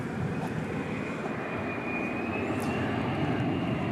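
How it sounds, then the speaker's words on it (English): An Airbus A321 airliner arriving from Los Cabos at Dallas Fort Worth airport gives a steady, moderately loud engine roar with a constant tonal whine, heard at some distance without talking. "Flight 2667, an Airbus A321 coming in from Los Cabos"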